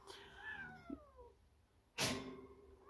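A domestic cat meows and complains in a few separate cries, some drawn out and one loud burst near the end, close by with no talk over it.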